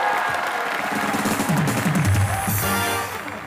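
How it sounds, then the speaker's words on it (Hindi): A studio audience on a Hindi comedy talk show breaks into loud, sustained applause and cheering that carries on throughout before easing off near the end. "जोरदार तालियां"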